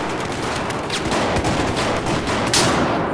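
Rapid shotgun blasts and gunfire from Battlefield 4 in a Team Deathmatch match on Operation Locker, several sharp shots over a dense, loud battle din with no talk.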